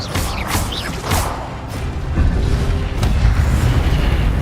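Incendio fire spell cast in Hogwarts Legacy on hard difficulty, a deep booming burst of flame over a rumbling, noisy game soundscape, with a sustained roar continuing after the blast.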